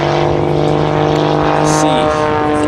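Pitts Special S2-S aerobatic biplane performing at the 2016 Farnborough International Air Show, its propeller engine giving a loud, steady, buzzing drone throughout, with the pitch sagging slightly near the end.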